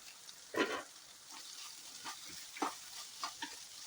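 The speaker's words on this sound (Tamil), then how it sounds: "இப்போ இந்த வெங்காயத்தை வந்து கோல்டன் கலர் வர வரையும் ஃப்ரை பண்ணி எடுத்துக்கலாம்" Onions frying in a pan for a Tamil onion chutney, giving a soft, steady sizzle with a few brief louder bursts of stirring as they cook toward golden brown.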